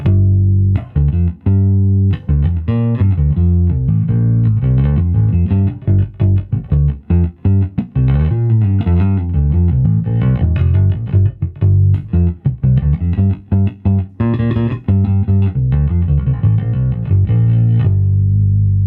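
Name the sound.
electric bass guitar playing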